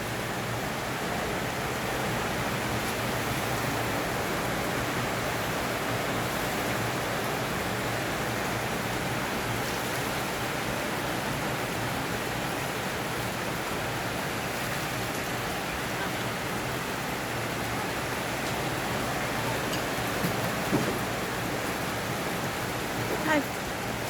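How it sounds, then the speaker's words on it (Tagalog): Heavy rain pours down like a storm in a dense, unbroken roar of hiss and patter that holds steady and loud throughout. "Papakita ko sa inyo kung gaano ang ulan dito."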